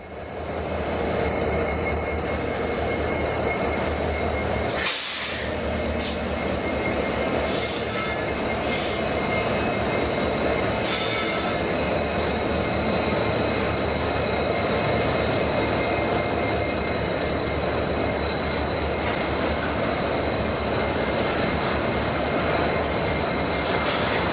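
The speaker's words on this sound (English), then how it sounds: "Take a good look at that EMD SD70M trailing behind the lead unit." A freight train led by an all-EMD consist, with an EMD SD70M trailing, rolls past at Emeryville, its steady loud rumble of wheels and cars continuing throughout, with brief high squeals overhead.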